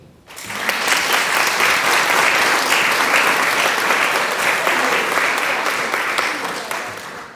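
Steady, dense applause from a large audience at a business awards ceremony fills the room continuously, close and loud, swelling quickly and holding before easing slightly toward the end.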